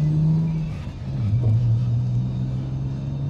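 Mitsubishi Galant with a big-block engine revving close by, a steady low rumble that dips briefly and then climbs back as the throttle rises, heard alone with no talk.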